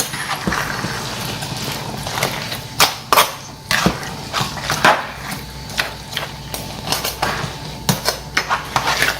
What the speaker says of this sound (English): Okay, so we're gonna stir it.